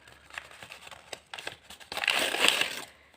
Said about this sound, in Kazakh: Шықырлаған дыбыс естісеңдер. Осындай пакетик.